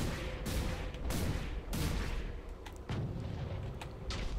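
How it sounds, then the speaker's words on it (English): Heavy booming weapon shots in the mech combat game Hawken thump out in a series of loud, deep blasts, several in a row with brief gaps between them. "Ooh, that sounded like an interesting weapon shot right there."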